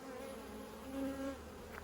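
Honey bees buzz steadily around an open hive during a brood inspection before pollination, a soft continuous drone with a few louder passes as individual bees fly close, no talking.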